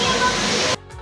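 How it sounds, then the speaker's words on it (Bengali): Water pouring down a waterfall at a temple near Katra, a loud, steady broadband rush close by that cuts off abruptly after under a second. "পুরো ঝর্ণার মধ্যে দিয়ে জলগুলো পড়ছে"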